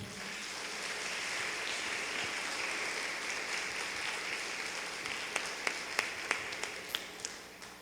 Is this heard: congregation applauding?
yes